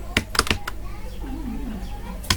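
A file name is typed on a computer keyboard as a few quick key clicks at the start and another at the end, with a faint voice murmuring in between.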